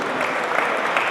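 Loud, dense applause from the audience at a mushaira poetry event held in London, a continuous burst of many hands clapping, with no voices.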